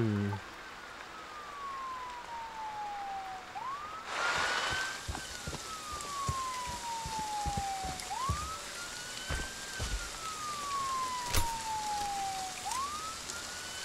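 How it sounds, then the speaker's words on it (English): Police car siren wailing in the horror video game Friday the 13th, a repeating falling wail that climbs back up about every four seconds over a steady rain-like hiss, with a burst of noise near the start. "What's that? Police car?"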